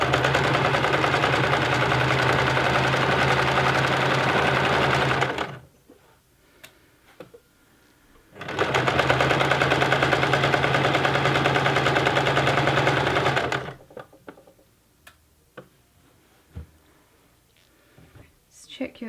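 A sewing machine stitches a honeybee cushion on an old, somewhat unsteady desk, running in two loud, steady bursts of about five seconds each, separated by a quiet pause with faint handling noises.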